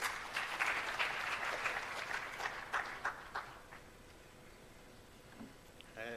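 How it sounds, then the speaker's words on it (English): Faint audience applause at a launch event fades out over a few seconds, a dense patter of clapping that thins to scattered claps before a brief voice at the end. "Let's give him a round of applause, ladies and gentlemen"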